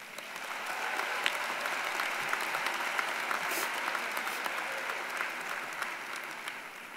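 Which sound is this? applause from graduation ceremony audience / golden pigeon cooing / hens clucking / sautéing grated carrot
applause from graduation ceremony audience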